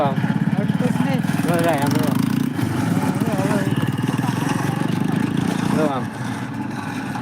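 A tractor engine chugs steadily and loudly nearby in a constant rhythmic throb, with voices talking over it.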